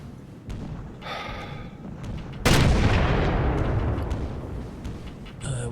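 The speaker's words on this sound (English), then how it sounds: "Let's shoot it then." A single loud rifle shot in the Sniper Elite video game cracks out mid-clip and rolls into a long echoing decay, preceded by quieter game ambience and small rustling movements.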